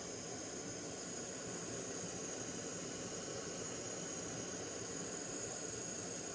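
A steady, roaring hiss of a Jetboil Flash camping stove burner boiling water runs continuously without pause, broadband and even, with no voices.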